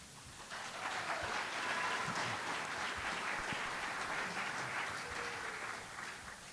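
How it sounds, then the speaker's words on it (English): Audience applause follows a speaker at a public air quality agency meeting, a steady wash of many hands clapping in a large room that swells and then slowly fades, heard at moderate distance with no talk. "we ask that you would hold your applause till the end of the panel"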